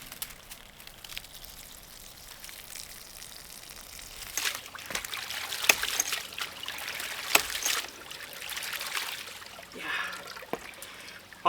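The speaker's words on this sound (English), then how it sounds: "After a couple minutes, the water has now reached this point and is overflowing." Water overflows from a ram pump system at startup, a soft steady trickle and splash with a few louder spills and drips near the end.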